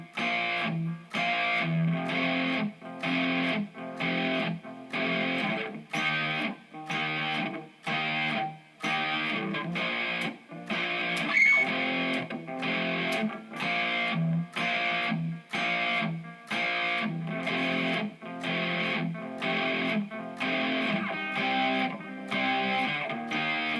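Distorted electric guitar plays a chugging riff, with steady rhythmic chords cut by short gaps and repeating evenly with no voice over it.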